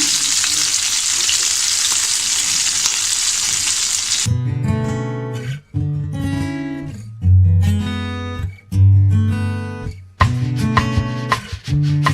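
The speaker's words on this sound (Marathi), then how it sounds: "जशी आपण एक बाजू त्याची फ्राय करून घेतली तशी आपण त्याची दुसरी बाजू सुद्धा अशी फ्राय करून घेऊया" Stuffed capsicum fries in a pan with a loud, steady sizzle for the first few seconds, then music takes over and largely buries it.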